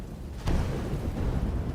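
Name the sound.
thunder from purple lightning in video game V Rising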